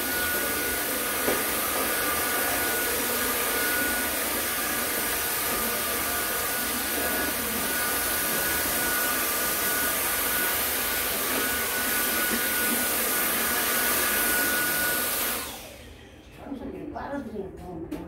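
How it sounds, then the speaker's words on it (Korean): A vacuum cleaner sucks up ash and debris from around a wood stove in a country house, roaring loud and steady for about fifteen seconds before shutting off, with faint rustling afterward. "청소기로 빨아들여야 됩니다."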